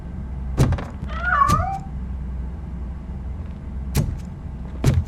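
A cat in a RoboCop video game gives one short meow among sharp, loud thuds and bangs spaced a few seconds apart, over a low, steady hum.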